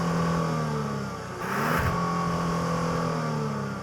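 A 2024 Genesis GV70 idling and revving through its dual exhaust tips, a steady close engine drone with a brief rising rev in the middle before settling back to a hum.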